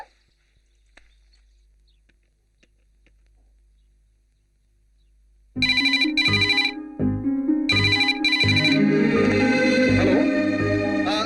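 After several seconds of near silence, a loud electronic ringtone starts up, a bright repeating melodic pattern that keeps playing close by.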